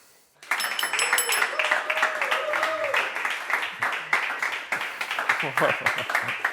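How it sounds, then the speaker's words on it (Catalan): Studio audience of a Catalan television programme's final episode breaks into loud applause to welcome a guest, continuous clapping and cheering that begins abruptly after a short announcement and carries on steadily. "Rebem amb un fort aplaudiment a l'Oriol Comas i Coma!"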